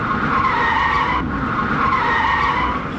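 Budget car oversteering on a race track, a loud sustained tyre skid with a dominant squeal band, brief dip midway then continuing, close and alone.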